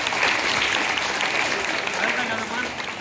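A crowd of parents at a school parents day event claps steadily for the teachers, loud and sustained for a few seconds with a faint murmur under it.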